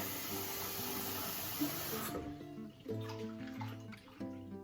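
Cloudy rinse water being poured off washed lentils in a kitchen, a steady hissing gush for about two seconds that then stops, followed by quieter clinks and faint background tones.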